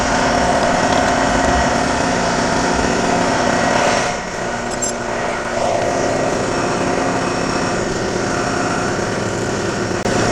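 A milling machine with an end mill runs in a shop, a loud steady motor whir and broadband hum throughout, dropping slightly in level partway through, with no talking.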